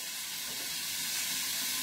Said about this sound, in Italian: e lo possiamo friggere